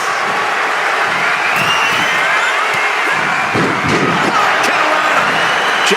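A wrestling event crowd cheers and applauds in a steady, dense roar filling the arena, with scattered shouts rising above the sustained noise.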